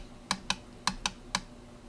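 Five quick, crisp clicks sound from presses on the keypad of an Intellivision II controller, close and distinct against a quiet background, in an uneven rhythm.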